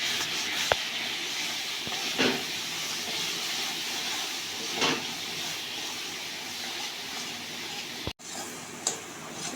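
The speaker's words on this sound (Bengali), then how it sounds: "মশলাটা ভাজা হয়ে গেছে," Ground coriander, cumin, chili powder and salt frying in hot oil in a pan for a dhaba-style chicken dish, a steady broadband sizzle and hiss throughout with a few brief clinks and stirring knocks.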